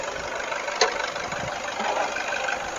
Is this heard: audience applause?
no